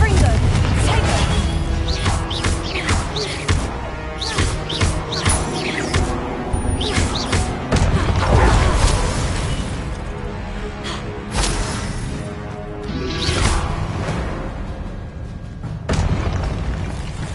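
Spell combat effects in the video game Hogwarts Legacy: loud booming blasts, crashes and whooshes in rapid succession, with a player calling out spell names over the continuous battle noise.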